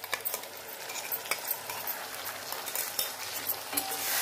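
A spiced paste with turmeric is stir-fried with chopped potatoes in a pan, making a continuous close sizzle. Quick spoon scrapes and clicks break through it at an uneven rhythm.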